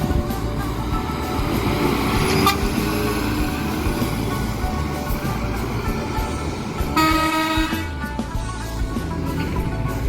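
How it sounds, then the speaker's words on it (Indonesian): A big coach bus pulls out of a bus terminal with a heavy low engine rumble, and loud horn toots sound at moments over the steady drone of the vehicle. "Ini yang big busnya."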